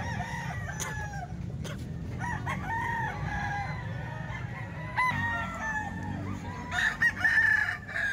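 A Gilmore straight-comb rooster crows repeatedly alongside other chickens clucking, several overlapping calls close by over a low steady background hum, with louder crows toward the end.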